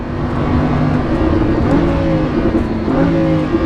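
A Lamborghini Huracan engine drones and revs steadily while driving, with shifting harmonic tones rising and falling through upshifts and downshifts, loud and continuous throughout with no talking.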